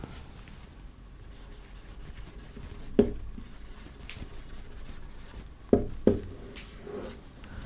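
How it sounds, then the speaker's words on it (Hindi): Chalk or marker writing a sentence on a board, soft scratchy strokes with a few sharper taps, quiet and continuous over low room noise. "तो मैं यहाँ पे रूट सेंटेंस लिख देता हूँ।"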